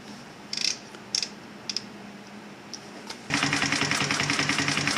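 Brother LS2 B837 unison feed industrial lockstitch sewing machine, with a few brief clicks first, then stitching at a steady, fast, dense rhythm that runs loud and continuous to the end.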